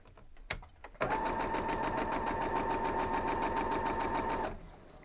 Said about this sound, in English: Just had to sew one of my other pieces down through there.